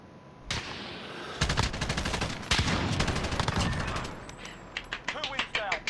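Rapid gunfire in a shooter game, long dense automatic bursts near and loud, then a run of separate sharp shots toward the end, with players' voices briefly audible.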